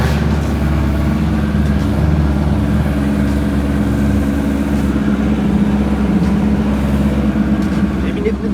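Race cars idling and revving at a hill climb course in Les Andelys, a loud continuous engine drone close by that stays steady throughout, with talk mixed in.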